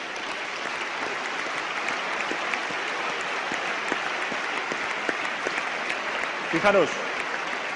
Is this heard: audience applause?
yes